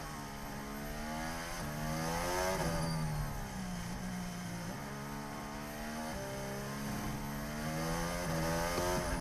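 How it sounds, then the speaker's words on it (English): A Formula 1 car running slowly behind a safety car drones and shifts pitch, its engine note dropping through repeated gear changes over a steady, fairly loud roar with no voices. "Why is Lewis Hamilton having to change down so quickly?"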